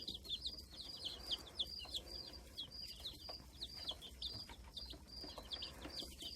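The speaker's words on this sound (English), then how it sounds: "Chickies are up and chirping away this morning." Many small birds chirp and cheep in quick, overlapping bursts over a steady low hum, like a busy brooder full of chicks.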